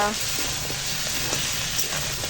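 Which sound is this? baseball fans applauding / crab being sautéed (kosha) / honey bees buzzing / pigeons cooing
crab being sautéed (kosha)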